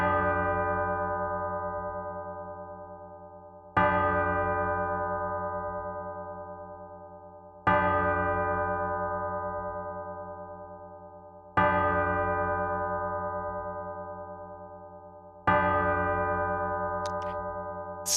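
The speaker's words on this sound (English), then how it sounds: "The bell rings." Church bell in the Bad Faith video game tolling five slow, evenly spaced strikes, each ringing out and decaying before the next, loud and alone.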